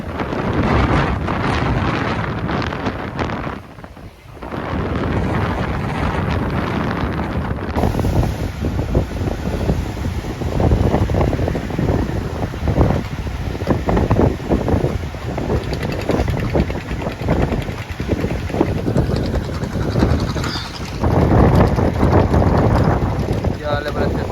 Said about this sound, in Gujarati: પવન ફૂલ છે જોઈ શકો છો તમે.